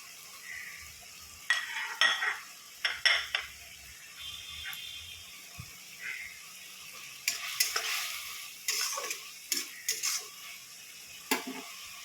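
Prawns stirred and fried in a pan with greens, with scattered scraping stirs and clinks of a utensil against the pan over a faint background sizzle, with no speech.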